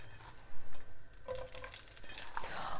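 Vegan food sizzles and crackles in a hot frying pan, with a couple of soft thumps and light clatters of cookware near the start.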